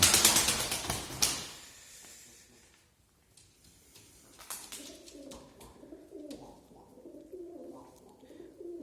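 Pigeons cooing in a coop inside a shop, soft low coos repeating through the second half after a few louder clatters and rustles at the start.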